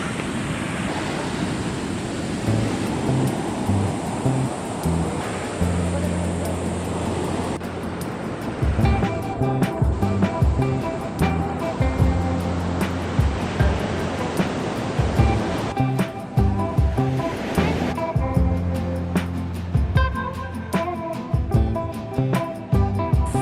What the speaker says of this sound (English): We made it to the beach.